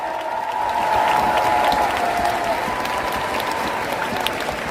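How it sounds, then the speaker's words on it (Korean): Crowd at a Korean Democratic Party political rally giving sustained applause for two candidates, a dense, steady roar of clapping that swells and holds throughout. "우리 두 분 후보님께 뜨거운 격려의 박수를 부탁드립니다."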